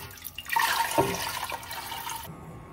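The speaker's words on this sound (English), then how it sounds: "Then I'm gonna take more water and add it to the pot." Water poured from a container into a cooking pot during home food prep, a soft splashing gurgle lasting about two seconds and then stopping abruptly, fairly close and quiet.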